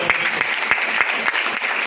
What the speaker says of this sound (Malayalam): ആൾക്കൊരു നല്ല കയ്യടി